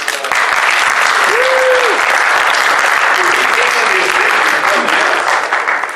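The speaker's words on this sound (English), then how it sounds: "Round of applause for Alkali." A comedy charity show crowd gives a round of applause, loud and sustained clapping filling the room for several seconds, with a voice briefly calling out over it before it fades slightly at the end.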